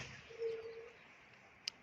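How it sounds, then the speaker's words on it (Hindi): A faint bird call, a short tonal coo-like note, rises over quiet outdoor air in the mountains near Nandanagar, followed by a tiny bright chirp. "चिड़ियों की आवाज़ें भी आ रही है यहाँ से।"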